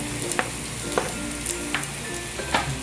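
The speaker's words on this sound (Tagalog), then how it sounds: "First, nagigisahin ay garlic. Yan. Ganun natin ang sibuyas." Garlic and onion sautéing in oil for chicken curry, a steady close sizzle with periodic sharp clicks of a utensil stirring in the pan, no talking.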